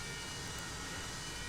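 The F-5E Tiger II jet engine runs steadily after start-up in Microsoft Flight Simulator, a broad, constant roar and whine heard close up with no change in level and no voices.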